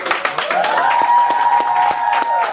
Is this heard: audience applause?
yes